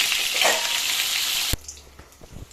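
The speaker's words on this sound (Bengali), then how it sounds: "এই যে হচ্ছে ইলিশ মাছের মাথা এটা ভেজে নিই" A hilsa fish head dropped into hot oil in a wok gives a loud, dense crackling fry that stops abruptly partway through, leaving only faint clatter and low thuds afterward.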